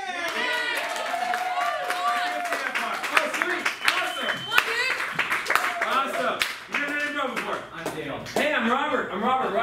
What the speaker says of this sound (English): Can you make a clap noise if you'll come up here with me?